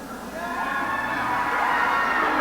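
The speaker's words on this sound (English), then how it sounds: "And the crowd is yelling." A sports crowd yelling and cheering in a steady, loud wash of many voices that swells slightly over a couple of seconds, with shouts and whoops mixed in.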